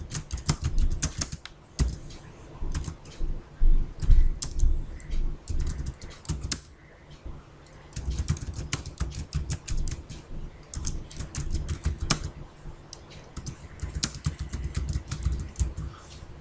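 Steady typing on a computer keyboard while entering a business address into accounting software, with quick bursts of close, crisp key clicks and short pauses between words.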